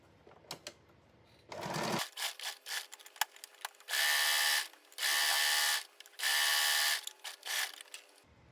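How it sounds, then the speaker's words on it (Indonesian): A sewing machine stitches elastic onto a bed sheet, running in several loud, steady bursts separated by short pauses, close by. "Terakhir jahit di bagian tengah."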